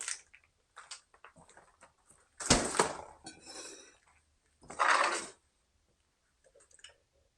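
Clinks and scrapes of a pan and cutlery while bacon and eggs are cooked for breakfast, a few separate bursts of clatter with quiet gaps between them.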